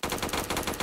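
Rapid automatic fire from an RPK-74 light machine gun in the Roblox shooter Phantom Forces, a dense burst of closely spaced shots filling the whole moment.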